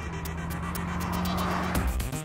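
A BMW M6 drives at speed on a wet track, its engine note steady and close throughout with tyre noise, rising toward the end as it passes near.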